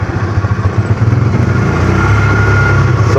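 A side-by-side utility vehicle rumbles loudly while riding across a gold claim, its engine a close, steady, shaky drone throughout.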